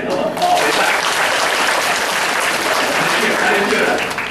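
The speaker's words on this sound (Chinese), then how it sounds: "来拍手一下好无" A congregation at a Taiwanese-language Sunday worship service breaks into loud, steady clapping that fills the room for about four seconds before tapering slightly at the end.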